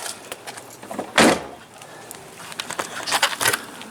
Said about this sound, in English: let's see what it looks like when we close the door.